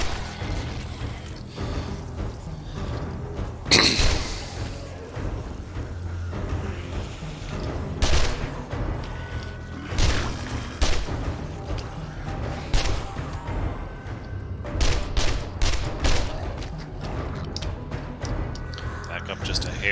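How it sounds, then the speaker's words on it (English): Gunfire in the survival video game 7 Days to Die during a blood moon zombie attack: sharp single shots spaced irregularly, some louder booms among them, under near-constant commentary from a player. "Let's try to make our shots count."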